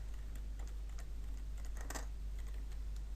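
Computer keyboard keys tapped in a quick, uneven run of light clicks, close and steady against a low background hum, with no voices.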